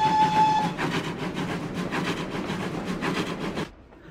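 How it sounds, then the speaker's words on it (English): A train rumbles in with a loud, steady roar, a brief whistle tone sounding at the start, then the noise drops away abruptly near the end as it stops. "another train came."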